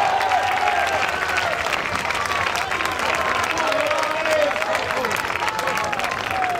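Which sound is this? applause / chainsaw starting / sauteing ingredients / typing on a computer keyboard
applause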